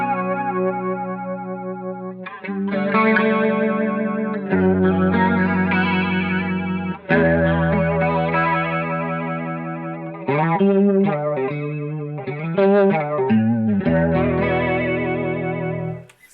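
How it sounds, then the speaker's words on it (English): A guitar effects pedal at high speed gives a swirling, warbling tone like a Leslie rotary speaker on sustained distorted chords and melodic phrases, loud and continuous with brief gaps between notes. "if you turn the speed up, it sounds a lot like a Leslie."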